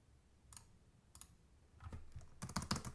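Someone types notes on a computer keyboard. Faint, close key clicks come in sparse pairs at first, then speed up into a denser, louder burst of typing toward the end, with no talking.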